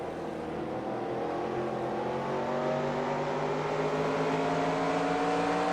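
Race car engines in the NASCAR Racing 2003 Season video game, a steady loud droning roar with pitch slowly climbing as the car accelerates, sustained without any talk.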